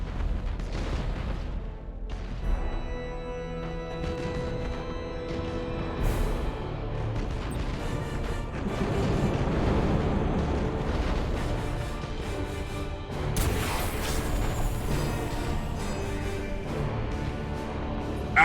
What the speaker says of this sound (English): Open fire, all weapons.